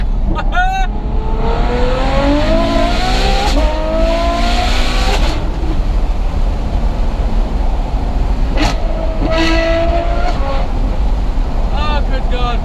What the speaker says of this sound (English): So overrun on this is just like a short, sweet barble.